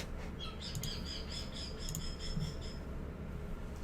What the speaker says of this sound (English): Excitable bird today.